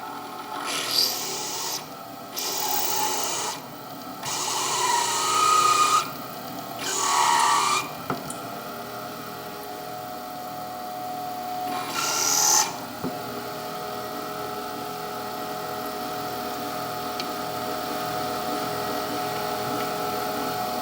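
A flame-tip grinding burr drills into a stone ball bead, giving a series of short, harsh rasping grinds that start and stop several times, followed by a quieter steady motor hum.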